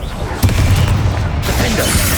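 Confringo blasting spell going off in Hogwarts Legacy, a sudden loud boom burst followed by a sustained rumbling, crackling blast texture that stays dense to the end.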